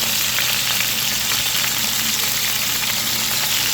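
Beef short ribs sizzling and crackling steadily as they braise in a hot pan, a dense continuous hiss with small pops, close up and fairly loud.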